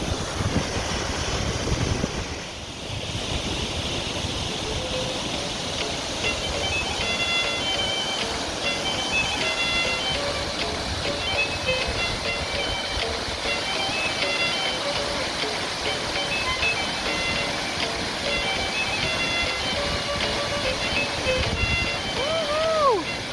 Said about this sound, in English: I'm right next to the ocean.